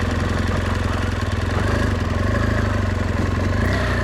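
A motorcycle engine idles steadily at a campsite, a close, continuous low throbbing rumble that holds an even pace throughout with no revving or talk.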